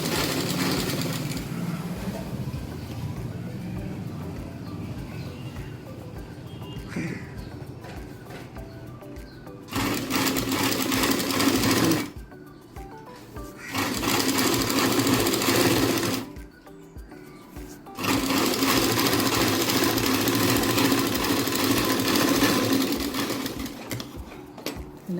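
A sewing machine runs double stitching along a blouse in long, steady bursts, stopping briefly twice before starting again. The whirring is close and loud, and there is no talking.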